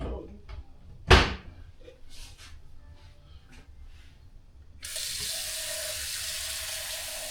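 Tap water pours into a measuring cup in a home kitchen, a steady hissing rush that starts abruptly after a sharp knock and continues alone to the end.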